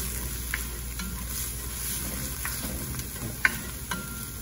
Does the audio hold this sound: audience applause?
no